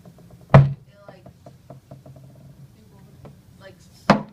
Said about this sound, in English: what crushed the bottle? Atmospheric pressure did